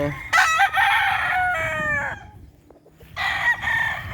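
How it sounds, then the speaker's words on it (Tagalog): Chickens on a backyard farm where pullets and broodcocks are kept for breeding: a rooster crows loudly and close twice, with clucking from the flock and rustling between the calls. "So, yan yung mga manok dito."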